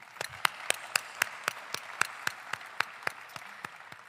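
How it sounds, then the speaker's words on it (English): Audience applause at a State of the City address in Monroe, Louisiana, a steady bed of clapping with sharp, evenly timed rhythmic claps cutting through about four times a second, with no talking. "can we also give a round of applause to the people we don't see and that's not on the program?"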